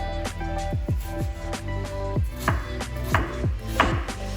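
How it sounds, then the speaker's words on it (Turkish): Rapid, steady knife chops on a board, about a dozen close, rhythmic thuds as onions are cut, with faint background hum. "annem soğanlarını doğramaya başladı"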